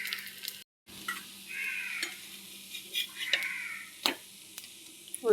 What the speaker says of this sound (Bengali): মিডিয়াম ফ্লেমে ভাজা হবে